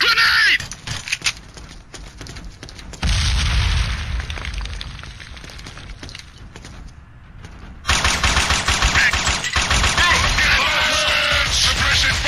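Gunfire in a video game battle, with dense bursts of automatic weapons fire and booming blasts, loud and continuous, pausing briefly before another intense volley.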